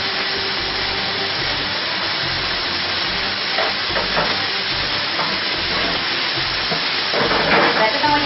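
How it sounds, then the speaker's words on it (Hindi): Chicken frying in a pan during Ramadan home cooking, giving a steady broadband sizzle and hiss that runs throughout with small crackles, louder toward the end. "अभी चिकन हमारी फ्राई हो चुकी है, टेस्ट भी आ चुका है इसमें"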